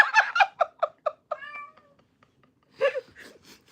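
A house cat meows repeatedly and clearly, a quick run of short calls, then a drawn-out tonal cry and a few more meows after a pause, close and alone.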